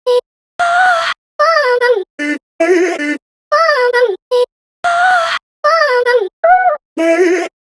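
Chopped-up music loop in a funk production: short stuttering vocal-like fragments of the melody cut apart by abrupt silences, loud and alone in an uneven rhythm.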